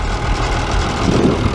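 A 120-horsepower two-wheel-drive tractor pulling a 10-foot disc through muck runs with a dense, loud low engine rumble and broad mechanical noise, continuous and close.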